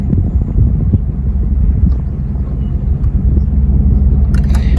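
A 1997 Jeep Grand Cherokee engine idles in drive with a steady, close, low rumble, unbroken and with no talk over it.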